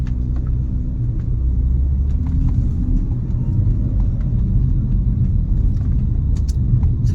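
A BMW M3 E46 with SMG gearbox pulls onto a main road, its engine a steady low rumble heard from inside the cabin, with faint ticks and clicks over it and no voices.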